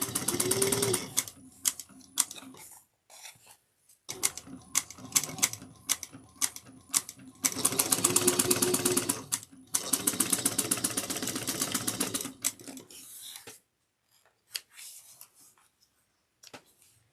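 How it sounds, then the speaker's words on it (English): A sewing machine stitches a tote bag seam with a half-inch seam allowance, backstitching at each end: close, rhythmic mechanical chatter in repeated runs of varying length, separated by short pauses. "sew this with a 1/2 inch seam allowance. Back stitch at the beginning and at the end."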